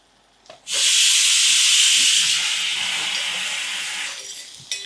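Curry leaves and asafoetida hitting hot oil for chinthakaya pappu, a sudden loud hissing sizzle that bursts in and holds steady for several seconds, then eases slightly, with faint clatter beneath and no talking.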